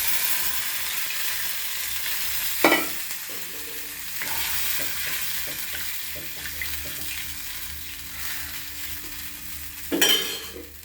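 Salt, chili powder and turmeric being stirred into a pan for a seela fish curry, with soft scraping and occasional knocks of a spoon over a faint background sizzle; no one speaks.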